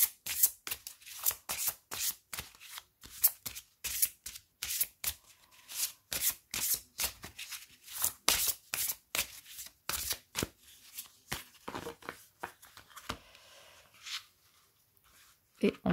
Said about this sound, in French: Donc nous allons mélanger et nous allons prendre une carte.